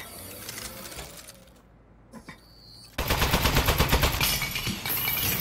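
A turret gun in the video game Aperture Desk Job opens fire after a quiet stretch, letting off a rapid, loud, even stream of mechanical shots that keeps going to the end.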